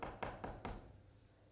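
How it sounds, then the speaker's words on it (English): Four quick, evenly spaced knocks on a door, fairly close and dull, followed by quiet. "And they came knocking on the door."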